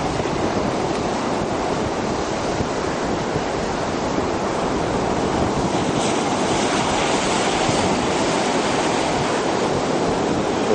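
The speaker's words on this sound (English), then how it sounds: "It's breezy out of the southwest." Ocean surf at an eroding beach beside a groin, with a southwest breeze: a constant loud wash of breaking waves mixed with gusty wind rumbling across the microphone, with no voices.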